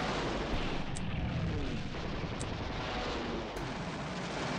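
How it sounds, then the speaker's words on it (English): Bombing explosions in the strategy game Panzer General II, a continuous heavy rumbling roar of blasts with a few faint high pings scattered over it, loud and sustained. "Start off with some bombing."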